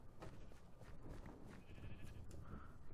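Sheep bleating in the Minecraft video game, a few faint repeated bleats over a dense low rumble of other game sound.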